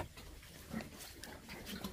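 Several pigs, a sow with piglets, grunting softly and fairly faintly, with a few short irregular snorts spread across under a second or two.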